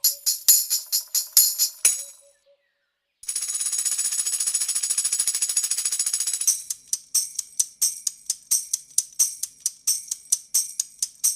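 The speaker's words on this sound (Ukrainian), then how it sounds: "це бубон. В нього є багато малесеньких металевих тарілочок, якщо його потрусити" Bright metallic jingles of a tambourine come in rhythmic bursts, then a sustained shimmering shake, then more sharp evenly spaced jangles, close and crisp.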